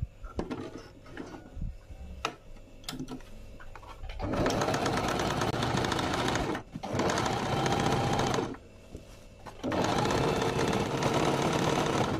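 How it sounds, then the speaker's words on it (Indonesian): An electric sewing machine stitches an instant hijab in three loud, close bursts of steady whirring, separated by short pauses, after a few quieter clicks and handling sounds at the start. "jahit bagian yang bertanda hitam ini"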